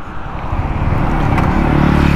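A 2023 Yamaha MT-15 V2.0 motorcycle with a loud exhaust revs up, a broad, loud engine roar that swells and builds steadily over a couple of seconds.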